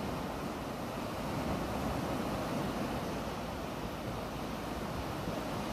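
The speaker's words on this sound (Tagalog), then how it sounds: "Wow, ang lakas ng alon." Constant roaring wash of heavy surf, loud and dense with wind rumble blending in, no voices.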